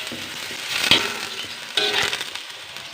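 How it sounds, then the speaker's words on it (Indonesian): Vegetables stir-fried in a pan, with broccoli among them: two short scraping stirs of a spatula over a soft background sizzle, close up and brief. "Lalu ditumis lagi."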